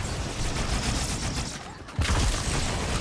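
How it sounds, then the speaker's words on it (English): Grenade blast in the Halo 2 video game, a sudden loud boom partway through, set against continuous busy battle noise and gunfire. "I need to like chuck the nade and then immediately hide"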